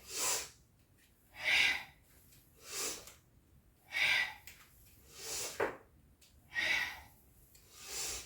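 Slow, deep yoga breaths during a guided flow, about six rhythmic inhale and exhale cycles spaced a second or two apart, close and airy with brief silences between, no talking over them.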